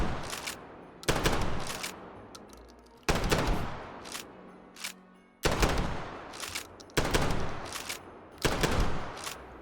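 Shotgun blasts in the VR shooter H3VR, loud, sharp reports fired in quick pairs with short gaps between, each followed by a brief ringing decay, with no talking.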